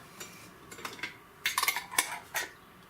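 A plastic lid is pressed onto a cup holding a mint-topped alcoholic jelly drink, giving a cluster of light, close clicks and taps followed by a couple of brief snaps, with no talking.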